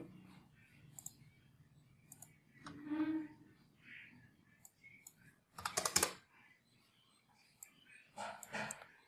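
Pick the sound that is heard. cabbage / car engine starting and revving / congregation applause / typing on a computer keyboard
typing on a computer keyboard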